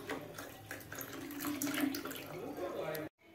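Hot water poured from a pan into a glass at home, a steady splashing pour running close and fairly loud for about three seconds before cutting off abruptly, with faint household noise around it.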